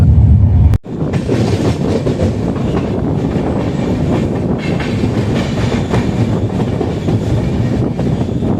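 The Island Express rolls along the rails near Changanacherry, with a loud, steady rumble and rattle heard from inside the carriage after a brief knock at the start, continuous and close with no speech.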